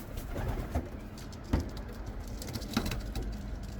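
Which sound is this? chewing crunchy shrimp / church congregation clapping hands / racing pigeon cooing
racing pigeon cooing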